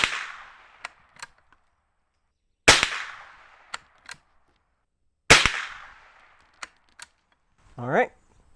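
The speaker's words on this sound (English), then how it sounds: "We're going to take 3 more shots, see if that's improved a lot." Two loud, sharp Savage 120A rifle shots crack out a few seconds apart outdoors, each with a decaying tail, among small clicks of bolt handling and a short voice near the end.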